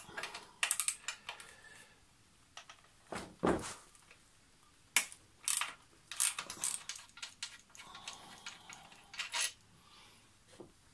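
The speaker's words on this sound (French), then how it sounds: "il faut retirer la vis et l'écrou qui bloquent l'axe de la roue avant" Front wheel axle screw and nut being removed from a Yamaha XV 500 motorcycle: sharp metallic clicks, taps and clacks arrive in irregular close bursts with short pauses, and no one speaks.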